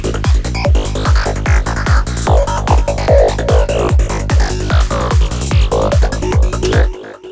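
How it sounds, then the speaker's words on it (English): A sample-and-hold synth lead in Bitwig, triggered by a random arpeggiator, plays a steady stream of short, plucky notes with sweeping filtered tones. It stays loud and dense throughout, with no voices, and cuts off near the end. "This lead is a sample and hold based lead."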